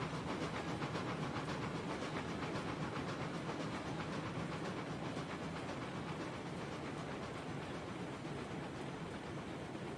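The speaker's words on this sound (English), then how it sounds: "This train's dancing all over the place for me." Steam train in the Railroads Online game running on a switchback track, giving a dense, steady hiss and rapid rhythmic chuffing that stays loud and continuous throughout.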